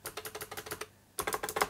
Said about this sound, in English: try the keyboard. This is a very nice keyboard.